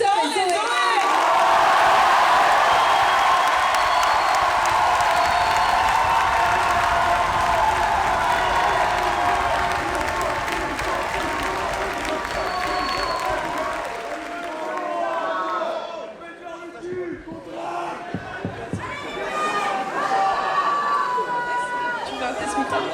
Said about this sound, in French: Applaudissez bien fort Victor et Zoé.